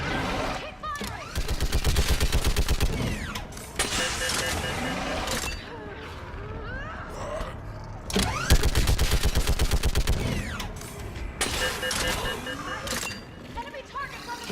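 Gunfire in a Mass Effect 3 firefight: long, rapid automatic bursts several seconds each, loud and close, separated by short pauses, with voices in between.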